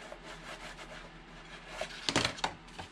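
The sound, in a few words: burnishing the bottom of a paper gift box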